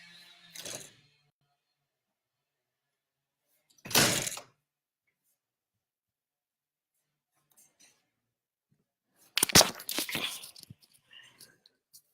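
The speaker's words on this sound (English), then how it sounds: "I'm going to have to just go and shut the door" An indoor door is pushed shut with a solid thunk, set between a light clatter at the start and a burst of rattling handling noises afterward, with quiet gaps in between.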